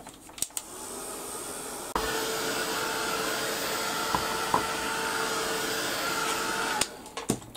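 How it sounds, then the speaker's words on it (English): A heat gun blows steadily for about five seconds while drying fabric decoupage on a board, with a continuous loud whooshing roar that has a high whine in it. Short clicks come as it switches on and off at each end. "I'm just going to give this a quick blast with the heat gun."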